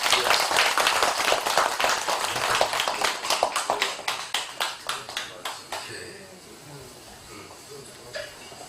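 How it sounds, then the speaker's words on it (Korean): Audience applause at a Buddhist Dharma service at a temple in Buyeo, a dense burst of many hands clapping that thins into scattered claps and fades out after about six seconds, followed by a quiet room. "선생님께 한번 박수 한번 쳐드리겠습니다."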